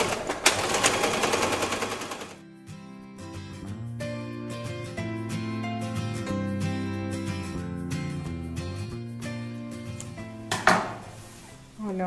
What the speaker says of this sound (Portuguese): Vamos para a máquina. Vou costurar o gancho e depois fazer a pence.